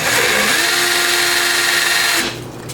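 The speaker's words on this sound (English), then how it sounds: "now I'm gonna smooth out the top with some sandpaper" Sandpaper is rubbed steadily across the top of a handmade fire piston, making a loud, continuous abrasive rasp close up that stops abruptly near the end.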